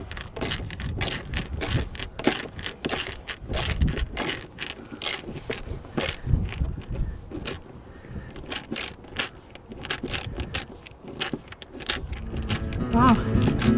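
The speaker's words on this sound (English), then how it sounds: "It's a lot easier if you use the ratcheting feature of the ratcheting screwdriver." Ratcheting screwdriver driving screws while replacing a handrail in a Country Coach motorhome, a dense run of quick clicking ratchet strokes and scraping close up, continuing steadily for over ten seconds.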